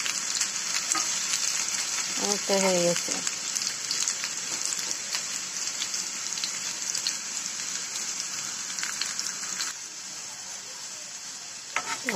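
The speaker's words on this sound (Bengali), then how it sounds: "আমার আলু আর ফুলকপিগুলো প্রায় ভাজা হয়ে এসছে" Potatoes and cauliflower fry in a pan with a continuous bright sizzle and scattered stirring scrapes, while a brief voice speaks early on; the crackle eases slightly toward the end.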